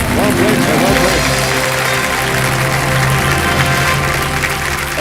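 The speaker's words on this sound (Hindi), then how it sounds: "सर ताली बज गई है" A KBC studio audience breaks into loud, sustained applause that stays dense and even throughout, with a crowd roar filling the space and no clear speech over it.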